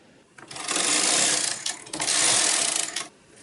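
A knitting machine carriage pulled across the needle bed, knitting rows of waste yarn on a sweater shoulder, making two loud mechanical swishing, clattering passes about a second long each, close by with no talk.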